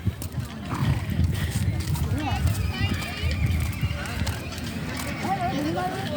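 Racehorses at a horse race in Nghĩa Lộ, Yên Bái, Vietnam, with continuous hoof clatter and the odd whinny at moderate distance under steady crowd chatter and talk.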